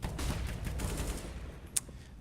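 Gunfire in Counter-Strike on the Train map, fired through a wall during a PGL Major match: a dense, muffled burst of shots runs steadily, then thins out with one sharp crack near the end.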